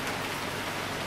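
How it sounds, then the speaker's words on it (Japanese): Steady rain pours down outdoors on a wet winter day, a dense even hiss filling the short stretch with no pauses and no voices. "雨です"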